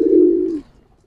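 A single short, loud coo from a nearby giribaz high-flyer pigeon, a low tonal call lasting just over half a second before fading to quiet.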